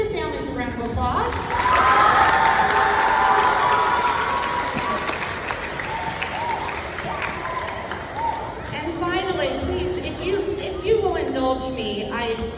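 Students applauding their families at a June 2023 school ceremony, a loud crowd clapping and cheering in a large hall that swells and then slowly thins, with shouts and voices mixed in.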